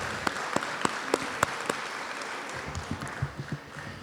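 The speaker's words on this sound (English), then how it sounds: "Give yourself a round of applause." Sparse, scattered clapping from a few hands at a college reception, faint and somewhat distant, rising into a slightly busier patter at the end.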